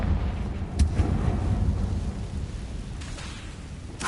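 A Confringo blasting spell bursts in Hogwarts Legacy with a heavy, rumbling explosion. Deep booming and crackling roll on for a few seconds, with a sharper hit near the start and another at the end.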